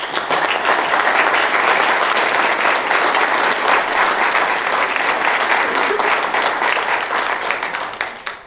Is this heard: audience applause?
yes